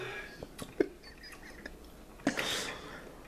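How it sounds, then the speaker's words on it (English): Hot peppers crunched during a pepper-eating challenge, heard as a handful of crisp, close chewing crunches and clicks that are fairly quiet, with a louder burst of crunching near the end. "do y'all hear the crunch though?"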